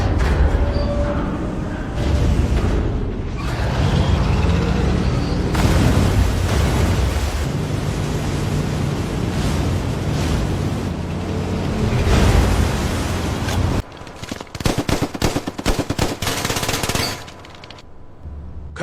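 Animated battle scene of amphibious war vehicles opening fire, with dense sustained machine-gun bursts and booming blasts rolling over a roaring wash, loud and continuous before breaking into choppy staccato volleys near the end.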